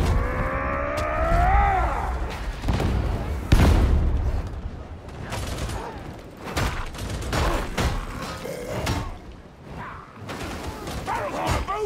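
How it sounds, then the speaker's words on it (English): Explosive barrels blowing up close by in a chaotic co-op action game fighting Nurgle forces, with heavy booms and gunfire bursts layered over loud combat noise and a voice talking. "it's not great when those barrels go off next to you"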